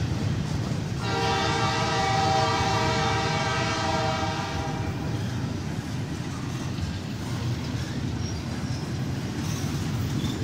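A Canadian National 2502 freight train sounds a long, loud, steady horn blast near a crossing in Effingham, Illinois. Heavy rumble and rolling noise from the passing rail cars continue after the horn stops.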